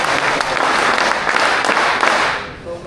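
Close, loud round of clapping from a group of armed police attending a yoga session, dense and steady before tapering off at the end.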